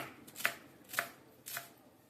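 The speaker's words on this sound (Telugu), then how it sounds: "అలాగే కొత్తిమీరను కూడా సన్నగా కట్ చేసుకుందాం." Three crisp knife chops land on a board at a steady, unhurried pace, close and clear with no talking.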